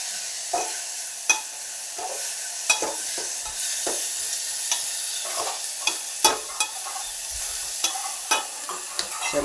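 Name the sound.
frying onion and tomato in a pan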